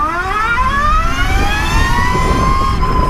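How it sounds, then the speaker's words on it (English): Rising electric motor whine from an Energica EGO electric motorcycle accelerating, a loud steady tone climbing in pitch over road and wind rumble, with no talking. "when I hear this whine, I instantly, my hands start moving towards the clutch"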